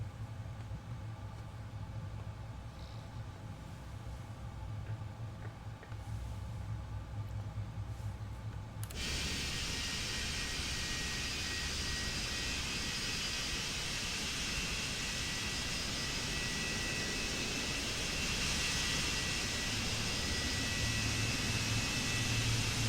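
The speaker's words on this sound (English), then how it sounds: "Alright, we have 2 good engine starts." A British Airways Boeing 777-200ER's jet engines spin up on the ground: a low steady hum gives way suddenly to a loud, sustained broadband roar that continues to the end, with no talk.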